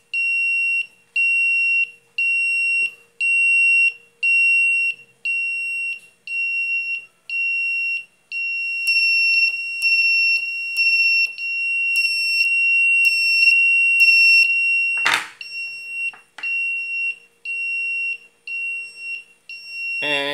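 A buzzer driven by a 555 timer circuit with a 100 ohm resistor and an LED beeps loudly in short regular pulses, then shifts to faster, uneven chirping tones, heard close with no talking.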